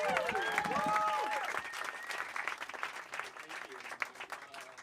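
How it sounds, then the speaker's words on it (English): Crowd at a comedy showcase breaks into applause for a comedian, dense clapping building quickly and holding steady, with a host's amplified voice talking over the start before the cheering hands carry on alone. "Start clapping right now for Ian Erickson, everyone."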